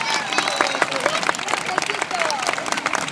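A concert audience applauds a maestro with loud, steady clapping, cheers and voices rising through the crowd.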